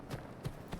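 Horse hooves clip-clop in the Skyrim mod Elysium Remastered, three soft, evenly spaced thuds of a ridden horse at a slow gait, fairly quiet and close, with no talk over them.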